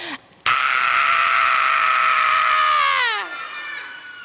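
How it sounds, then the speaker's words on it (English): An audience at an all-ages story event screams together loudly in one sustained, piercing burst lasting about two and a half seconds, then trails off into quieter voices. "If you are sensitive, you might want to hold your ears when you scream this out."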